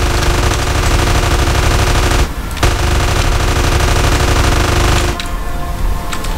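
Sustained rapid automatic gunfire from a weapon in GTA San Andreas, loud and continuous bursts with two brief pauses, no voices.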